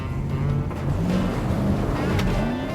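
An '88 Chevy Blazer with a 350 hp fuel-injected crate engine driving around town, its engine note rising and falling through gear changes over steady road and wind noise, fairly close.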